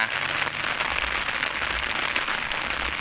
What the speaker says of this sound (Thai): มันลงมากับฝนนะครับฝนตกหนักด้วยนะ